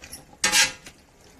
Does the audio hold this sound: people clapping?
no